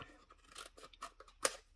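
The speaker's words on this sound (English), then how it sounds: "we get our scissors and we trim those pieces that are sticking out" Scissors snip through protruding paper edges on a handmade triangle box, a quick run of close, crisp cuts with one sharper snip near the end.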